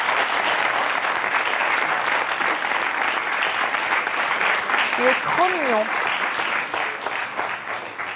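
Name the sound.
studio audience applauding a young man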